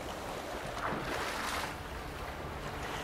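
A character swimming through water in The Witcher 3, a steady soft wash of splashing and wave noise with gentle surges, fairly quiet and continuous.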